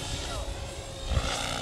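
A model helicopter flies at an airshow and model-flying meeting, its rotor and engine giving a steady, moderately distant whir with an outdoor wash behind it.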